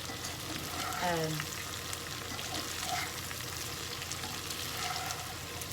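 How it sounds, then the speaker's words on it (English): Okra coated in oil frying on a stovetop, giving a steady, close broadband sizzle that runs throughout, with a brief voice and some light stirring over the frying. "You just want to coat all of this just with the oil and let it fry just a little bit"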